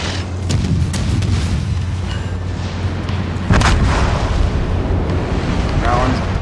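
Heavy warship guns lobbing high-explosive shells in World of Warships Legends, a dense roar of deep booms and rumbling blasts with a sharp heavy report midway, loud and continuous throughout with voices faintly present underneath.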